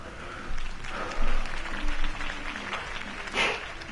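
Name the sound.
crowd applause in video game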